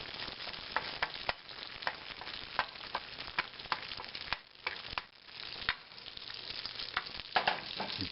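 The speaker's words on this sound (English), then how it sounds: "as soon as the butter melts" Butter sizzles and foams steadily in a hot pan for scrambled eggs, a dense crackling hiss with scattered sharper pops, moderately close and heard alone without talk.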